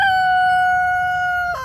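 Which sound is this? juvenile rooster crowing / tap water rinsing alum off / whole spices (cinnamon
juvenile rooster crowing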